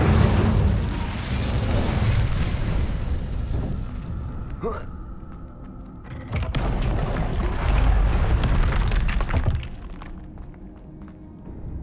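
A fiery Incendio spell blast in Hogwarts Legacy gives booming, rushing bursts with thumps over a dense game soundscape, loud and near, and a voice speaks over part of it.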